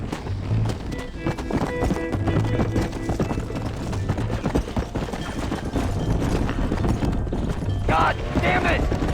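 Galloping horses and a stampeding cattle herd in the Red Dead Redemption video game, a continuous dense drumming of hooves with neighs and whinnies rising near the end, loud throughout under shouted voices.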